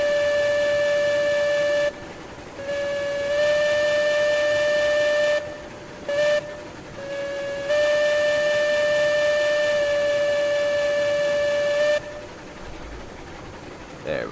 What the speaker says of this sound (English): when they're on trestle, they blow the whistle